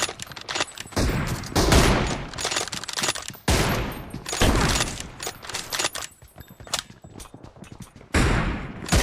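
Sniper rifle fire in the mobile battle royale game BGMI, an M24 in arena mode: several loud, booming shots spaced a second or more apart, each followed by a ringing tail and scattered clatter.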